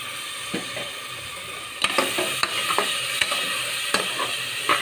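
A spice paste of ginger, garlic, chilli powder and turmeric powder sizzles in hot oil for a thin chicken curry, with a steady loud frying hiss broken by irregular scraping clicks from a spoon stirring the pan.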